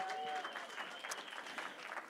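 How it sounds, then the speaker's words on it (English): At a charity gala auction, a crowd breaks into applause for a winning bidder, a dense wash of clapping with a few voices mixed in, moderately distant and fairly quiet. "Give her a round of applause"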